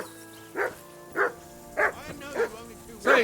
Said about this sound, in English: Hey, call off that dog and then we can talk.